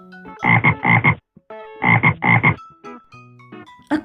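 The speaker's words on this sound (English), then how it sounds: "A frog." Loud, close frog croaks in quick paired bursts, two pairs separated by a pause, followed by fainter scattered tones.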